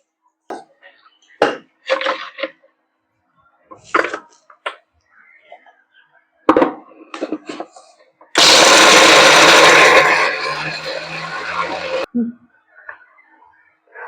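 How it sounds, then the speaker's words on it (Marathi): A kitchen mixer grinder blending a masala of garlic, chili, cumin and roasted peanuts whirs loudly for about four seconds, its pitch shifting partway as it runs, with someone talking before and after. "तर आता मी मसाला लगेच मिक्सर मधून बारीक करून घेणार आहे."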